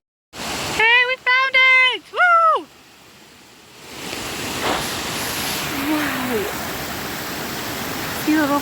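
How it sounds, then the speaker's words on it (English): A tiny, barely noticeable waterfall and stream in the Hoh rainforest make a steady, soft rushing hiss that runs continuously. Whistle-like tones sound at the start, and short bits of talk come over the water. "Tiny, barely noticeable waterfall."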